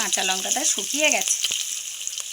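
Onion and green chilli frying in oil in a kadai give a steady, hissing sizzle that continues beneath a person talking at the start and then carries on more quietly alone.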